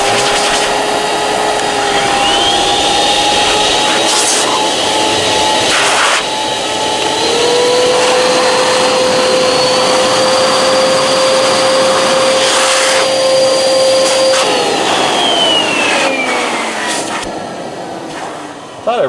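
A BigBoi BlowR Pro heated air blower roars loudly and continuously, its motor pitch rising and holding for most of the stretch before spinning down near the end.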